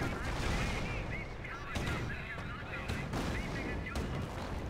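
Unit gunfire in the World War II strategy game Company of Heroes, with repeated sharp shots and bursts over a dense battle din and some voices.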